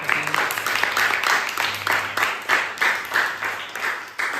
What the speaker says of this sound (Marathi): टाळ्या वाजवा एकदा